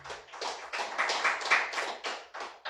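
Church congregation clapping for the Lord, steady rhythmic group claps in repeated bursts, fairly close and even, with no voices over them.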